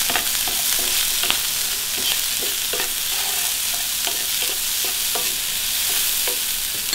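A spatula stirs a stir-fry filling in a pan with oyster sauce, broth powder, salt, ground pepper and sugar, giving repeated scraping strokes over a steady close sizzle, with no speech.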